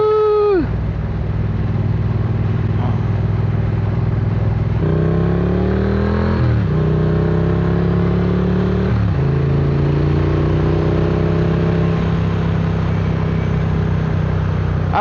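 A Triumph Modern Classics motorcycle engine runs loud and close, a steady rumble broken by two rising revs that climb in pitch and drop back, with no talking.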